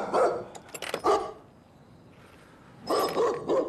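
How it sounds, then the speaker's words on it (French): A Rottweiler in a TV episode barks in loud bursts, two quick clusters, then a pause, then another run of deep close barks. "Il était flippant ce chien, c'est quoi? C'est un Rottweiler"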